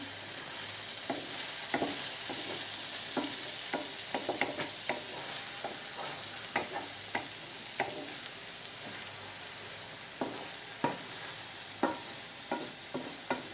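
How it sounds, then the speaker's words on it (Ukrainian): Overgrown cucumber lecho fries in a large pan with a steady soft sizzle, while a spoon stirs it in irregular scraping clicks and knocks, close and moderately quiet. "Вона вже пересмажилась і перемішуємо файно разом."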